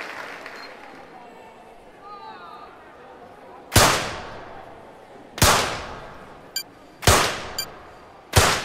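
Four loud, crisp pistol shots spaced about a second and a half apart in an Olympic rapid-fire pistol shooting game, each ringing off briefly, with one fainter click in between.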